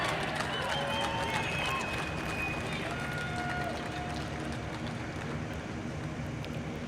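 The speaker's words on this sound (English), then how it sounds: "Let's hear a round of applause for him." Crowd applause greets rookie rider Cameron Bobier at Daytona International Speedway, a steady broad wash of clapping and cheering from a large audience filling the whole stretch without pause.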